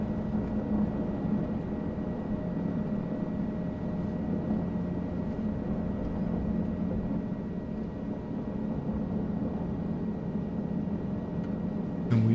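In a flight simulator, an aircraft takes off in New York at sunset, producing a steady, unbroken engine roar that holds at an even loudness throughout with no talk over it.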